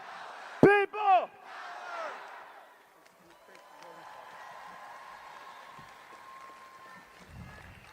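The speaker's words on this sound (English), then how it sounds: "This is an amazing crowd." A large rally crowd in Los Angeles for Bernie Sanders and AOC opens with a loud, close chanting shout, then settles into a sustained, more distant roar of cheering.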